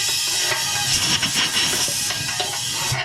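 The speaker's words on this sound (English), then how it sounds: "You can blow through the fuel line on this side." Air blown through the fuel line of a Husqvarna ST 230P snowblower during carburetor cleaning, a loud close steady hiss lasting a few seconds with small surges.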